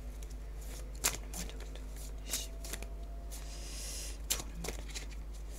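Oracle cards shuffled close by, with soft riffling and sliding bursts and a few sharper snaps over a steady low background hum, without speech.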